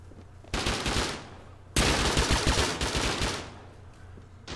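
Rapid automatic gunfire during a base raid in the survival game Rust, two loud sustained bursts of rattling shots, the second heavier and longer, with no talk.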